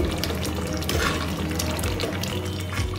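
Pav bhaji being stirred in a pan with fresh coriander, giving a steady close sizzle with soft scraping and wet mixing sounds throughout, no voices.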